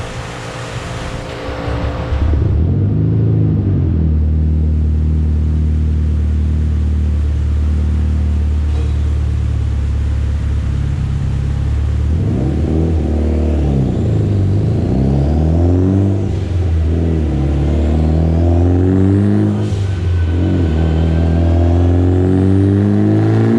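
A turbocharged Mitsubishi Evo X on a dyno, stock motor on flex fuel at 25 psi, first idling with a deep rumble and then revving repeatedly. Each rev rises and falls loudly, and the engine runs continuously with no one speaking.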